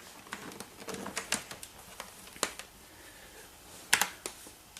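Keys clicking in irregular bursts on a Psion MC400 handheld computer keyboard, moderately close, with a sharper cluster of strokes near the end and no talking.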